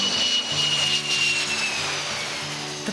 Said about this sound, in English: The plane touches down in Guatemala with several tons of supplies.